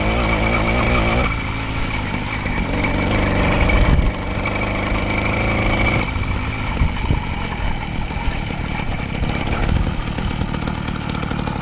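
A French 80cc motorized bicycle's small two-stroke engine runs loud and close throughout, a steady buzzing drone that shifts in pitch as it is ridden off-road, with no voices over it.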